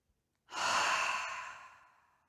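A single deep breath drawn in during a yoga breathing exercise, close and steady, swelling quickly and then tapering off slowly over a couple of seconds with no talking.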